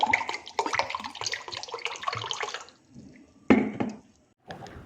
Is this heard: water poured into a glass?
yes